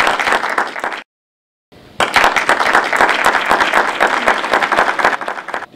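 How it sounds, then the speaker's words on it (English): Audience applause on a comedy variety show, loud, close, dense clapping from a crowd that breaks off briefly into silence, then resumes strongly and carries on to the end. "Give him a round of applause."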